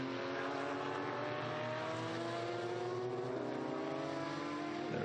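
Historic race cars, including Porsche 996s and TVR Tuscans, race at Estoril and give a loud, continuous engine drone with rising and falling revs as several cars pass close by.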